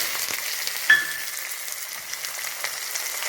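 Mustard seeds, ajwain, cumin and long-sliced onions fry in hot oil for a dahi tadka, a close, continuous crackling sizzle with a sharper pop near the start.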